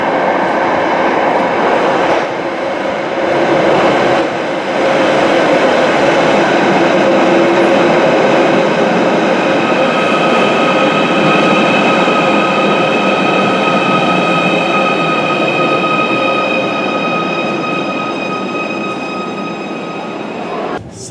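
A Merseyrail Class 777 electric train running toward Kirkby, heard from inside the carriage as a steady loud rumble with rising and falling motor whine throughout, no talking.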